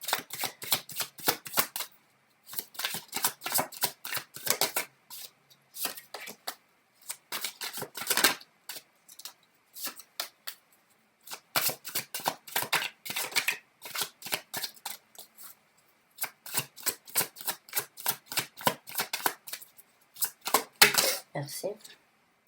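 Tarot cards shuffled close by, producing quick riffling bursts of papery flicks in several separate runs with short pauses between them.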